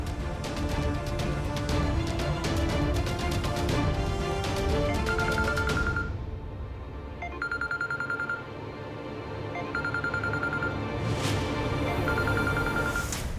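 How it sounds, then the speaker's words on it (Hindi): A mobile phone ringtone plays as a repeated electronic chime in evenly spaced bursts. It follows a louder, dense stretch of music, and the later rings sound against quieter background. "ये तो गुरमीत के फोन की रिंगटोन है।"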